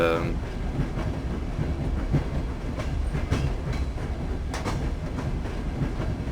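A moving train in the video game No One Lives Forever rumbles steadily with a dense clickety-clack of wheels on rails, loud and continuous throughout with a few sharper metallic knocks.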